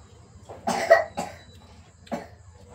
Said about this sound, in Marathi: खोकला खोकला आला का